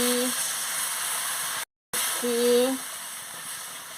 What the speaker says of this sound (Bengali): কষানো হয়ে গেছে, আমি পরিমাণ মতন জলটা দিয়ে দিচ্ছি